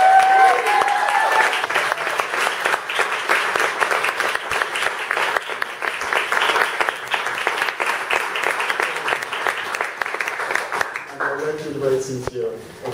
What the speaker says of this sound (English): I would like to give a big round of applause to Cynthia Ross.